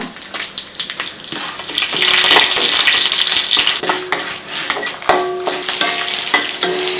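Steady, loud sizzling and crackling of two dried red chillies frying with chana dal in hot oil, with occasional clinks and scrapes of stirring throughout.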